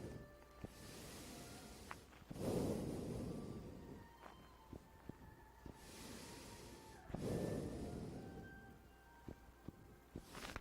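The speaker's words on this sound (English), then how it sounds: "Okay, deep breathing." Slow deep breathing during Tai Chi practice, two or three long inhale-exhale cycles close and fairly quiet, with small clicks in between and no talking.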